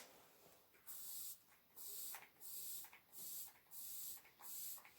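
Makeup setting spray misted onto a face: five or six short, bright aerosol bursts in an even rhythm, close and quiet against near silence.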